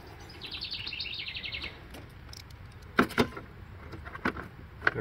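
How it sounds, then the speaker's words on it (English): A tiny songbird, not much bigger than a hummingbird, sings a quick high trill of rapid repeated notes in the first two seconds, followed by scattered sharp chirps and clicks over steady outdoor background noise. "So all that music is coming from a tiny little bird."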